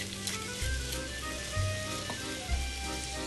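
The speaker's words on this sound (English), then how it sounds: "And then just at the very end, we're going to add a little bit of butter" Butter melting into a pan sauce sizzles and crackles steadily, with a few soft stirring or pan knocks underneath and no voices.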